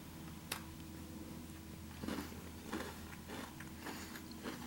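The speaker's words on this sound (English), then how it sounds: "a good cookie crunch" A chocolate-covered cookie bar from a 1991 MRE is bitten and chewed, with faint crunches repeating several times over a steady low background hum.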